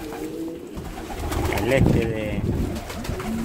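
Pigeons coo repeatedly, near, as they gather at a feed bucket to eat, with someone speaking Spanish over the calls.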